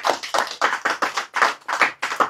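A small group applauding in a sharp, rhythmic pattern, about eight quick bursts of claps at a steady beat, close and clear, with no talk.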